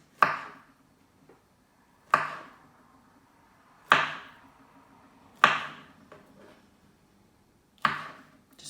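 Knife chops through a banana on a cutting board, five sharp, separate thunks about a second and a half apart, close and clear with quiet gaps between.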